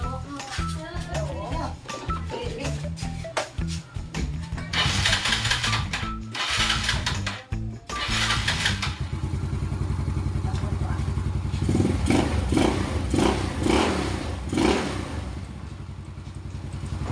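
A motorcycle engine, its cylinder block newly replaced, is kicked over with clattering thumps, then catches and settles into a loud, steady close-up idle while someone talks over it.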